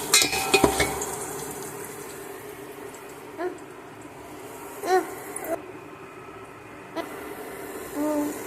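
Pan frying with a pinch of asafoetida added, a soft steady sizzle broken by occasional utensil knocks and scrapes, with a brief voice in the background.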